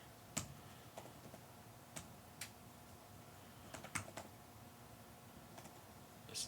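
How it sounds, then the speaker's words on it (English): Keys on a computer keyboard tapped in scattered, uneven bursts of crisp clicks, close and quiet, with short pauses between strokes and no voices. "Let's type this in."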